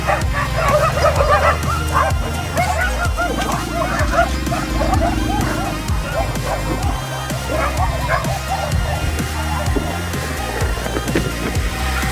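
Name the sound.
dogs barking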